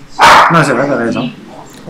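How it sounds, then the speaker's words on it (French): A dog gives one sharp, loud bark during a French-language podcast recording, picked up with noticeable reverb on the microphone; people keep talking right after it. "c'est un chien qu'on entend"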